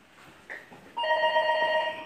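A telephone rings with a bright electronic tone, starting after a brief blip and holding steady and fairly loud for about a second, alone without talk.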